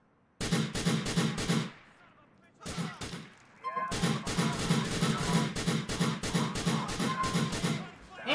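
Gunfire in GTA 4: rapid, evenly spaced automatic shots in two long bursts, loud and close, split by a short near-silent pause with a couple of quicker shots.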